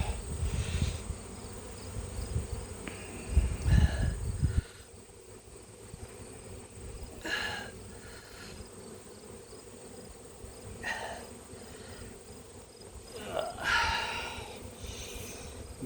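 Honey bees at an opened hive during an inspection for mites, a soft steady hum of many bees with louder passes of buzzing wings near the microphone and handling rustles and bumps.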